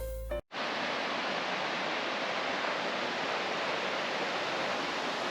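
Canyon Creek rushes beneath a trail bridge on the way to Sol Duc Falls in the Pacific Northwest, a steady, close, full-bodied wash of flowing water that continues unbroken after a brief cut at the start.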